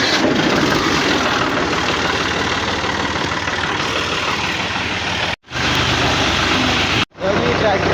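A tractor engine, pushed to get it going, runs at a steady idle close by with a dense, rumbling drone, broken by two abrupt gaps, with indistinct voices under it.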